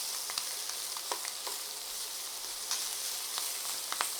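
Garlic and shallots frying with pork in a pan, a dense steady sizzle with frequent crackles and small pops, close and alone.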